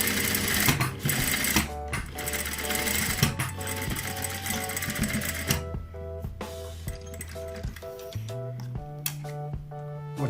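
An overlock sewing machine runs fast and steady, stitching along the edge of a shortened sleeve with a dense mechanical whir, then slows into short repeated bursts of clattering stitches near the end.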